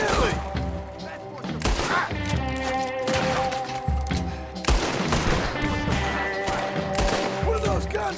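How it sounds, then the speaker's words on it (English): Repeated loud bursts of gunfire ring out from guns in Red Dead Redemption 2 during an epilogue fight. Sharp volleys crack in clusters, separated by brief lulls. "What are those guns they have?"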